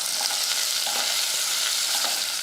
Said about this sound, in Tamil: கொஞ்சமாக சின்ன வெங்காயம் போட்டு நல்லா வதக்கிக்கலாம்